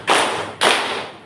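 Two loud, crisp claps from a classroom group clapping together, spaced about half a second apart, each ringing out and fading in the room's reverberation, with no voices present.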